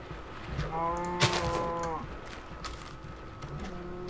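Cows moo in the Minecraft video game, one drawn-out harmonic moo in the middle of the clip standing out over a steady busy game background, with no talk.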